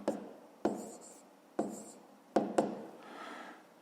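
Pen strokes scratching across paper while working a fifth-grade math exercise by hand, several short bursts with brief pauses between them, close and quiet.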